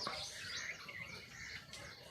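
Quick high bird chirps and tweets repeat through a quiet outdoor moment, fairly close, with no talking.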